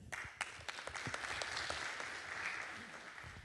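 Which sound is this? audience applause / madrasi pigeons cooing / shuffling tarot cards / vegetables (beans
audience applause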